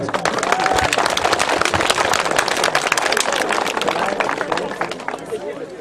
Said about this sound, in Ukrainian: Проважаємо їх бурними оплесками.